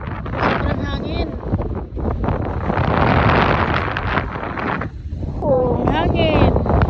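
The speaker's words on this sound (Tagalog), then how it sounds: "Sobrang hangin." Strong wind buffets the microphone outdoors on a farm, a loud continuous broadband rush with gusts, while people talk over it.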